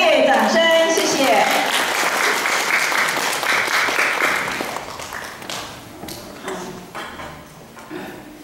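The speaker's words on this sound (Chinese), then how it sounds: "各位阿公阿妈，请热烈掌声" An audience of elderly listeners claps for a singer at a stage show. The applause starts loud and dense right after a burst of music, then thins and fades, with voices talking over it.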